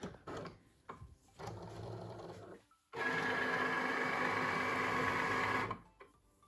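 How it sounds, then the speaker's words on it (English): A steady mechanical whirring and buzzing from a Cricut cutting machine cutting stickers, with short intermittent bursts and then a louder continuous run lasting a few seconds. "And then it will start cutting."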